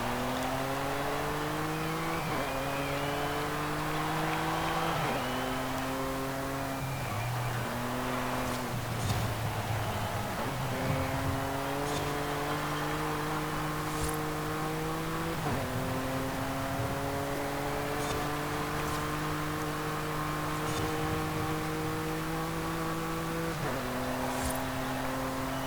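A 2018 Audi RS 4 Avant engine in the Forza Horizon 5 racing game revs through repeated upshifts, each climbing drone dropping in pitch at the shift. The engine is loud and continuous, with no talk.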